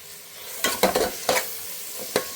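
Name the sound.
tomatoes frying and being stirred in a pan with salt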